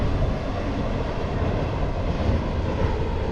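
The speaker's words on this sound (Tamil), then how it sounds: "ட்ரெயின் போயிட்டுருக்காங்க" A train rolls past as a steady, broad rumbling roar of moderate loudness, continuous throughout with no voices.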